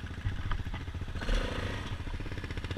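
A Honda 400ex ATV engine revs hard and loud for a wheelie on a night trail, its rough pulsing exhaust rising and falling with clattering sounds close by.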